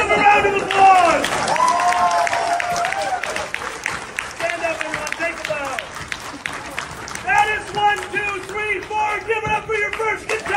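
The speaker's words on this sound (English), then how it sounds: "Guys, give them a round of applause!" A live audience at the IFC 2022 event claps in a dense, sustained round of applause, mixed with loud cheering and shouting voices that swell again toward the end.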